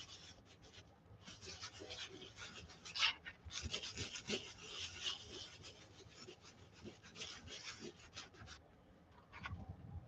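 Salt is rubbed loose from a watercolor painting held over a trash can, a soft, continuous dry rasping and scratching close by, fairly faint.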